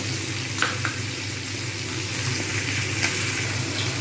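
Ginger-garlic paste fries with spices in a pan, making a steady hissing sizzle. A couple of sharp spoon scrapes near the start and the end break through it.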